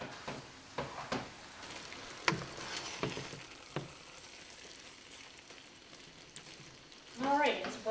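Melted cheese being stirred thoroughly into chicken risotto: scattered scraping and tapping strokes against the pot over a soft bubbling bed, with a louder, busier burst of stirring near the end.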